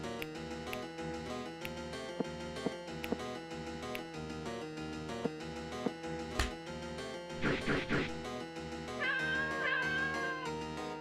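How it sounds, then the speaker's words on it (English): A cat meows repeatedly in the video game LiEat III, plaintive cries rising over steady game music with occasional sharp hits and a louder caterwaul near the middle. "We got tougher due to these cat noises."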